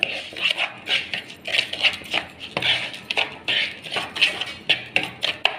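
Oil being stirred into a mango pickle spice mix in a bowl, quick repeated scraping and tapping of a utensil in a busy uneven rhythm, close and fairly loud, with no speech.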